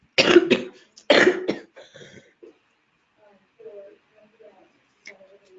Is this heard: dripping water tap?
no